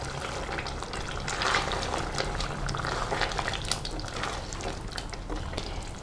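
Cream is stirred into a vegetable qorma in a pan, giving soft wet bubbling and slurping liquid sounds, quiet and steady with small scraping accents.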